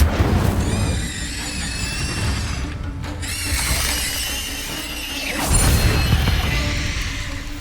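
The Incendio fire spell goes off in a Harry Potter video game, a loud whooshing burst with crackling, shattering layers that swells twice, rising again near the end. No one speaks.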